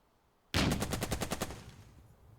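Tank gunfire in the war game Burden of Command, a loud sudden burst of about nine rapid shots in a quick rhythmic string that fades into a short decaying tail.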